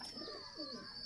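A pigeon coos softly in a breeder's rooftop loft, a short, faint, low warbling call lasting about a second beneath a steady high whine.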